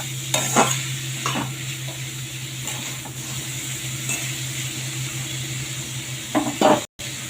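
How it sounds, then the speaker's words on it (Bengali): Ghatkol stems fry in a pan with a steady sizzle while a spatula scrapes and clatters against the metal in short bursts, close up, with a brief cut to silence near the end. "এগুলোকে খুব ভালোভাবে ভেজে নেবো"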